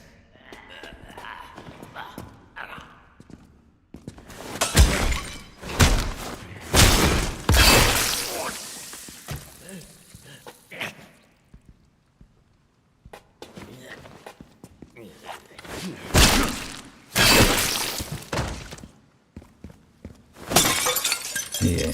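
Pots and pans get smashed in the Resident Evil 9 video game, with loud bursts of shattering and breaking pottery between quieter stretches, and a voice talking over the gameplay.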